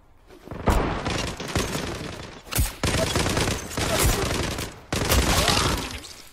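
Bursts of rapid gunfire from the online tactical shooter Zula during a clan match, loud and dense with several sharp shots and volleys, continuous across the moment with little pause.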